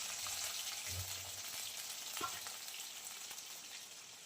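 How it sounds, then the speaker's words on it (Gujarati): Ginger-garlic paste sizzles steadily in hot oil in a pan for a Manchurian dish, with a soft continuous frying hiss throughout and a brief stir or clink partway through. "તેલ ગરમ થાય એટલે એમાં આપણે આદુ લસણની પેસ્ટ નાખી દેવાની."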